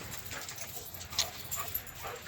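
A giant schnoodle dog gives soft, faint whimpers and small yips outdoors on a rainy day in Lubbock, set against a steady wash of rain noise.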